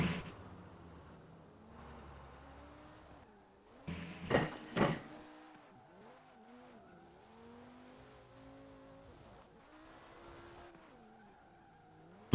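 A BMW M5 circles a roundabout with its tires skidding: a wavering, tonal squeal rises and bends across the run, with two louder rough bursts near the middle, all fairly distant and without talk.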